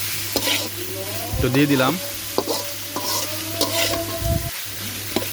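Fish head and boiled taro stems frying in hot oil, a loud dense sizzle with stirring scrapes throughout, while someone speaks briefly over it.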